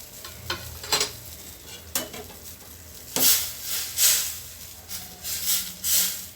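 Vada curry simmering in a pan with a soft sizzle, broken by a few sharp scrapes and clinks of a spoon stirring, louder bursts of stirring near the end.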